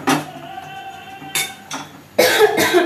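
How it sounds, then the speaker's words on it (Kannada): A person cooking carrot rice at home coughs in several sharp bursts, one at the start, a pair in the middle and a heavier fit at the end, with faint kitchen clatter underneath. "ಕೆಮ್ಮು ಜಾಸ್ತಿ ಆಗ್ತೈತೆ"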